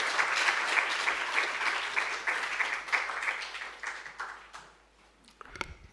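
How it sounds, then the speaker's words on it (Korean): A church audience claps warmly in a steady burst of applause that gradually fades out, ending with a brief knock or bump. "다시 한번 우리 박수로 감사합니다"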